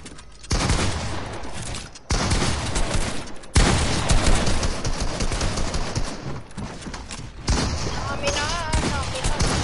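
Gunfire in a Fortnite match, with bursts of shots and clattering game effects running almost continuously at high level, cut by brief gaps, while players talk over the action.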